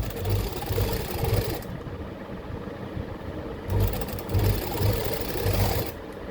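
A sewing machine stitches the hem of a kurta in two bursts of rapid mechanical chatter separated by a brief quieter pause, close and clear with no talking.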